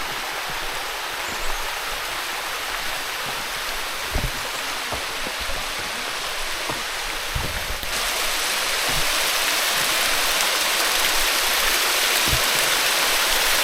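Maryvine Falls on Vancouver Island, Canada, pours in a steady, dense roar of rushing water, broad and constant throughout with no voices, growing slightly fuller and louder partway through as if drawing nearer.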